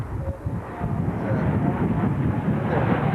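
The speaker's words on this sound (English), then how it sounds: "Here comes another plane." An A-6 Intruder jet comes in to land on an aircraft carrier, its engine roar a broad, steady rumble heard from a distance that slowly builds over the clip.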